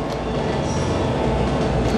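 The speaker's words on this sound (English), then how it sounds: "The train is great timing." Train rumbling past in the video game Blade Runner, a steady, loud rolling roar with faint wheel clatter, heard alone and continuous throughout.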